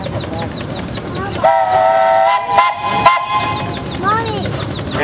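A 1911 20-horsepower Gar Scott steam traction engine sounds its steam whistle at a parade, a loud sustained blast with a second shorter toot, set against chirping birds and crowd chatter nearby.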